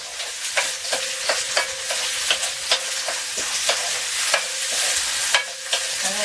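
Frozen vegetables are tossed and fried in a hot pan for creamy spaghetti, with loud rhythmic scraping strokes about twice a second over a constant sizzle, close up and without speech.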